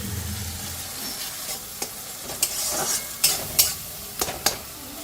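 Soaked cumin, coriander and garam masala powders hit a hot pan and sizzle steadily, with a few sharp clinks and scrapes of a spoon stirring against the metal.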